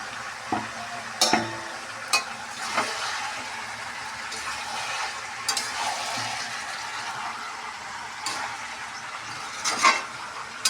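Chicken pieces being stir-fried with spices in a pan for a coal-cooked chicken curry: steady sizzling with repeated scraping spatula strokes and occasional metallic clinks, close and alone.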